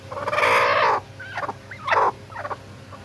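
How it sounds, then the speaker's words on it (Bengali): A brooding hen sitting on eggs makes low, throaty clucking and grumbling calls up close, several short bursts separated by brief pauses. "এই যে মুরগিটা এখনও বসে রয়েছে ওই দেখেন ওই দেখেন কেমন শব্দ করে"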